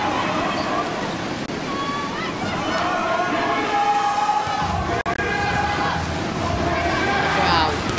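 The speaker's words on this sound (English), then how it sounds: "The crowd just don't stop." Continuous loud crowd roar and cheering fills a women's volleyball world championship match between Japan and the USA, dense and sustained throughout with a brief dip near the middle.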